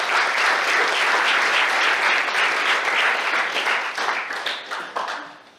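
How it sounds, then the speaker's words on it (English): An audience at a keynote address on entrepreneurship breaks into loud, sustained applause that fills the hall and gradually thins out into scattered claps. "big round of applause for Mahabharati."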